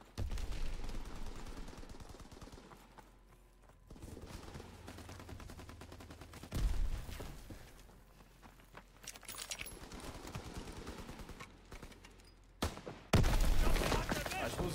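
Bursts of rapid gunfire and heavy explosions from Call of Duty: WWII, loud and uneven, with sudden blasts breaking through busy game noise.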